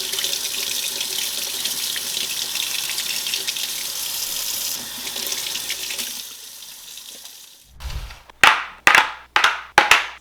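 Tap water runs steadily over a container as a disposable label rinses off, a close hissing stream that stops, followed by several sharp slaps or knocks of water flicked off.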